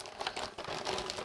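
Plastic foil wrapping around scale model kit parts crinkles and crackles in quick, close bursts, torn open and rustled at low volume with no talking.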